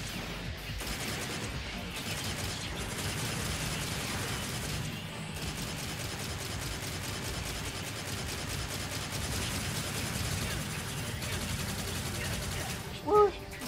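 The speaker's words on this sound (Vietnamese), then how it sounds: "Nó bắn súng sấy, mình thì bắn từng viên một." Steady gunfire in the Devil May Cry 4 Special Edition video game forms a dense, continuous rattle of rapid shots with crashes, running throughout under game sounds, a short sharp burst near the end.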